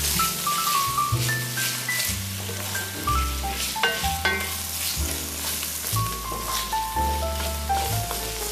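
Shiitake mushrooms sautéing in a pan give off a steady, close sizzle that runs the whole time under background music, with no talking.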